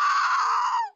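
A person screaming while playing a death-run video game: one loud, sustained, high-pitched scream lasting about a second before it cuts off abruptly, with no other voices.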